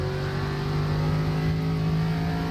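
Onboard engine of the number 18 late model race car driven by Dominic Hunter at Richmond, a steady loud drone with strong harmonics, held high and even throughout with no break.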